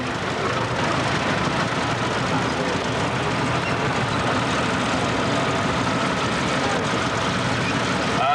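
A 1958 Fordson E1A Major tractor, 45 horsepower, runs steadily at a country steam rally, its engine noise dense and continuous throughout with no clear change in pace.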